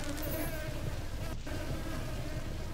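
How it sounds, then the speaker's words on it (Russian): A steady, dense buzzing of flies hovers in a SupraLand game scene, continuous and fairly loud over a constant background hum without pause. "Мух там, в принципе, хватает,"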